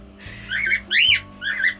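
A pet cockatiel gives three loud, shrill squawks in quick succession, each a sharp rising and falling whistle-like cry, heard close up.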